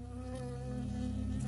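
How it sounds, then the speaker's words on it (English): A bee buzzes steadily in the woods in the video game Firewatch, a close, continuous insect drone that holds at an even loudness for the whole moment, with no talking. "I got stung by a bee."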